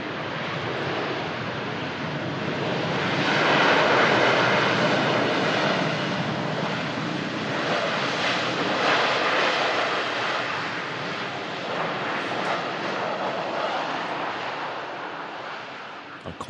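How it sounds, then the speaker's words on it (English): A heavy jet airliner lands at Manchester Airport, its broad, steady roar holding loud and close for the whole stretch, swelling slightly midway and then easing off toward the end. "Ooh, what a buttery landing that was."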